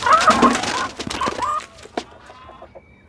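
A hen in a Nepali village setting clucks loudly and busily, with several sharp squawks and chatter that trail off into softer scattered clucks.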